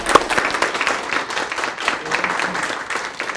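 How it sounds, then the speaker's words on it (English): An audience at a Board of Education meeting claps together in a steady, moderately loud round of applause, individual claps audible within the wash. "Let's give her a round of applause."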